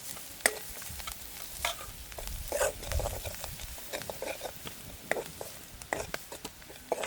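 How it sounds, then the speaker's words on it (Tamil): Onions and spices frying and being stirred in a pan, salted while cooking, with repeated scraping clicks and a soft steady sizzle close by, no talking. "எனக்கு இது நல்லா பொரிஞ்சிட்டுது."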